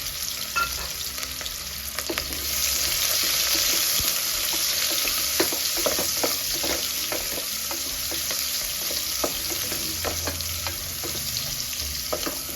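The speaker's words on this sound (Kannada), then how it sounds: "ನಾನು ಎಣ್ಣೆ ಕಾದ ನಂತರ ಸ್ವಲ್ಪ ಇದಕ್ಕೆ 1 ಕಪ್ ಆಗಷ್ಟು ಆನಿಯನ್ನ ಸೇರಿಸ್ಕೊಳ್ತಾ ಇದ್ದೀನಿ." About a cup of onions fries in hot oil for a Mangalorean mutton gravy, a steady close sizzle with stirring clicks and scrapes throughout.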